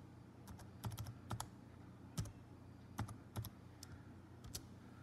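Quiet, irregular key clicks come from a computer keyboard as a password is entered on a Windows 98 machine, the taps arriving in short uneven bursts over a faint background hum.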